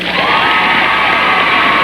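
A comedy audience cheers and whoops loudly, a dense sustained roar of many voices with scattered shrieks and no clear pauses.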